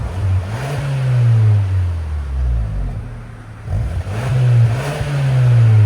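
A 2024 Hyundai Sonata N-Line's 2.5L engine revs up twice with its exhaust valves closed, each loud, close rise in pitch easing back down into a steady idle drone, with no one talking.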